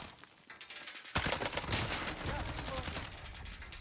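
Rapid automatic gunfire in Call of Duty Warzone, shots fired into a bush, bursting in suddenly after a quiet moment and rattling on steadily, close and loud, for a few seconds.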